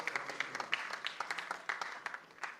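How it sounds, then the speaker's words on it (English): Scattered, uneven hand claps from the audience at an IIFT alumni meet ceremony, faint and distant, with individual claps picking out a loose, thinning rhythm. "also give a big round of applause to the editorial team of Alumni Relations Committee for their hard work and dedication"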